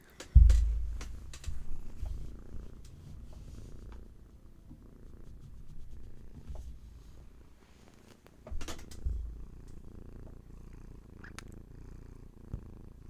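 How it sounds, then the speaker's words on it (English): A domestic cat purrs close up, a low rumbling drone that swells and fades with its breathing, with a few soft clicks along the way. "beautiful purrs to welcome you back"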